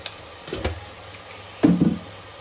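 Turmeric is stirred into a Rayalaseema goat head curry in a pan, making two short, close scraping sweeps with a faint sizzle behind them.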